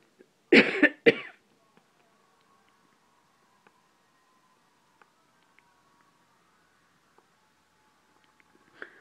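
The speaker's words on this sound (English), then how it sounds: "Please excuse my cough." Two quick, loud coughs close up, followed by near silence broken only by a few faint ticks and small handling noises.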